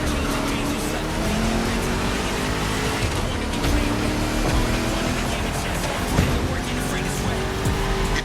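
A roaring 1969 Mustang Boss 429 engine in The Crew Motorfest video game revs hard and steadily, with racing-style acceleration and faint tire noise throughout, loud and continuous.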